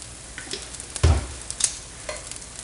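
Chicken pieces frying in olive oil in a pan for chicken parmesan, a steady soft sizzle with crackles and one louder thump as a piece is moved, no talking.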